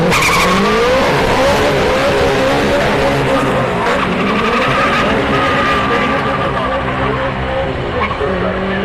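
Turbocharged K-Series hatchback drag car at Orlando Speed World spinning its tires down the strip, a loud sustained engine roar with squealing rubber, while an announcer talks over it.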